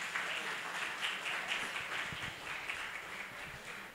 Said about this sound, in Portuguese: Uma salva de palmas para o Vinícius, né?